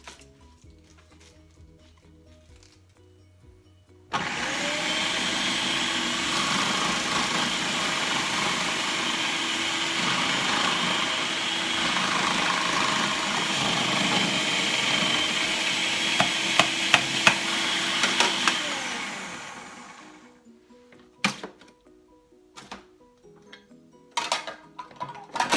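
Green onions are chopped in a kitchen machine, a steady loud whirring motor buzz lasting about fifteen seconds before winding down, with a few sharp clicks and knocks near the end.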